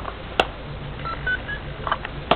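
RC rock crawler transmitter and receiver beep as each powers on: two short electronic tones about two seconds apart, each a brief chirp, with a few faint quieter tones between them over light background noise.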